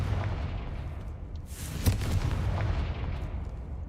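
In Hogwarts Legacy, a Confringo fire spell lands with one sharp blast over a rumbling game backdrop, followed by a brief crackling tail.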